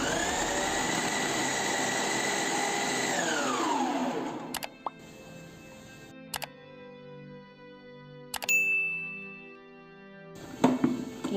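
Mixer grinder jar grinding chicken pieces into keema: a loud, high motor whine runs for about four seconds, then spins down and fades, followed by a few sharp clicks and jar clatters.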